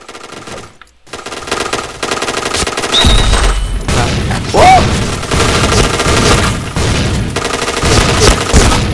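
Gunfire in the Point Blank online shooter game: dense, continuous bursts of automatic weapon fire, loud and close throughout, with occasional heavier booms.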